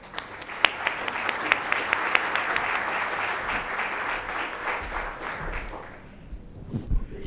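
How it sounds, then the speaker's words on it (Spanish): Audience applause welcoming a speaker at an education conference, a steady wash of many hands clapping for several seconds before fading out, with a few stray claps at the end. "Invito a darle un aplauso de bienvenida a Santiago Cuello."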